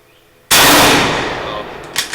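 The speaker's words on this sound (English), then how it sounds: "Missed my first shot, so that's always a good sign." A Mosin Nagant M44 rifle fires a single loud, close gunshot at an outdoor 25-yard target range, a sharp crack followed by a decaying echo, then a faint metallic click near the end.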